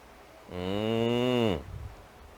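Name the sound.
cow mooing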